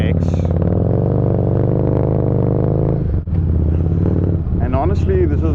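Harley-Davidson Street Rod motorcycle engine idling with a steady, loud low rumble, close by, briefly dipping near the middle before continuing, with faint talk over it toward the end.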